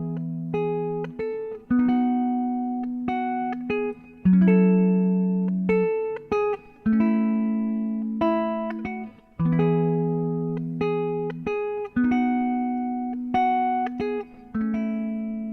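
Plucked guitar notes pick out a slow melody with chords underneath, each phrase ringing out and decaying before the next strum, played alone without voices.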